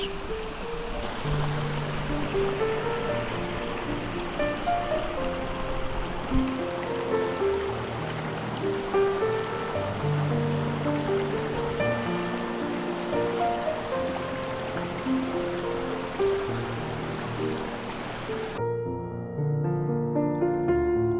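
Water flows continuously in the Chorreras stream near Huélamo, a steady rushing wash that stays even throughout and drops away briefly near the end.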